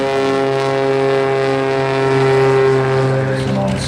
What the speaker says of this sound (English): we have our Cessna 185 jump plane with Paul Smith